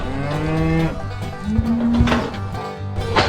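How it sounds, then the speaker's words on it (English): Cattle on a farm moo repeatedly: several long, loud, close lowing calls, some overlapping, with no talking. "We have finally got all the cows up."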